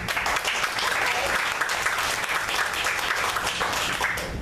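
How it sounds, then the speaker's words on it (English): Sustained, dense applause from a large audience at a spoken-word or rally event, steady and loud across the whole stretch with no pauses. "Please give yourselves a round of applause"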